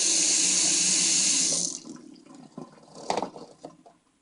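A tap runs hot and cold water in a steady, loud hiss that suddenly thins out, leaving softer trickles and a few splashes and clunks near a sink.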